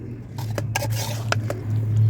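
Goat meat is worked by hand with spices and green chillies in a bowl, giving wet squishing and soft patters along with light clinks of the dish under a steady low hum.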